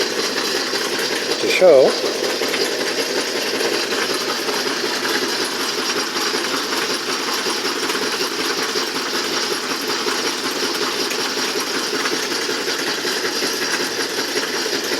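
A can crusher machine with a wobbling pulley runs steadily, giving a continuous even motor drone and rattle that holds its level, with one brief louder knock near the start and a few faint spoken words.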